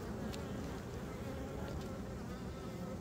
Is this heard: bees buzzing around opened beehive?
yes